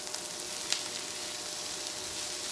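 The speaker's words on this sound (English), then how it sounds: "I'm just gonna scrape that in, and I'm gonna give it a stir to make sure those onions don't get too brown" Onions sizzle steadily in a pan as they are stirred and scraped, a soft, even frying hiss with one brief scrape near the start, no talking.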